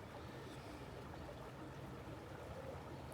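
A small waterfall on a creek pours steadily, making a constant, faint wash of flowing water with no pauses or other sounds.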